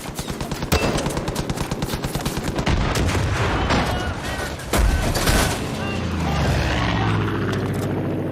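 Dense, sustained automatic gunfire rattles almost without pause during an aerial strafing run in the Far Cry 5 video game, with rapid bursts, heavy booms and a roaring engine-like drone, all loud and close.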